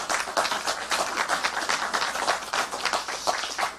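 An audience at a talk on the 2008 mad cow beef protests claps together, a dense, steady patter of many hands that stays even and fairly close for the whole stretch, with no voices on top.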